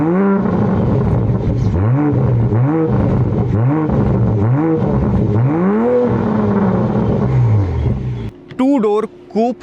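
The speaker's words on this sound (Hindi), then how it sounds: "इन कार्स में साउंड होता है, बिकॉज इसके अंदर 6 सिलेंडर इंजन है। इसका साउंड सुनते हैं।" A BMW M440i convertible's six-cylinder engine is blipped about six times in a row, each rev rising and falling in pitch. One longer rev follows, then the engine cuts off near the end, leaving some brief clatter.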